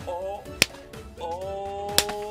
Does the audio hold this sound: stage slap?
yes